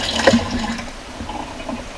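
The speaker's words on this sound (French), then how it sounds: "Et après, on le mouille à l'eau. À l'eau froide bien sûr, toujours à l'eau froide." Cold water splashes over sliced leeks in a brief, close gush that settles into a softer running trickle.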